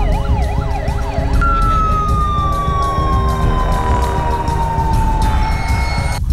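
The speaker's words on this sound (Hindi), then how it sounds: "पूरी रफ्तार से दौड़ती एम्बुलेंस और पाकिस्तानी रेंजर्स की गाड़ियों के सायरन की आवाज पूरे इलाके में सनसनी पैदा कर रही थी।" Wailing sirens from an ambulance and Pakistani Rangers vehicles racing through a border area, a rising-falling yelp giving way to a long descending wail, loud and continuous over steady traffic rumble.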